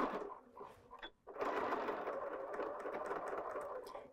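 Sewing machine stitching fabric for a strawberry pin cushion, a close, quiet rapid whirring with a brief pause and click before stitching resumes steadily.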